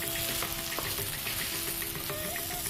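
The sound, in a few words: spinach being sautéed in a pan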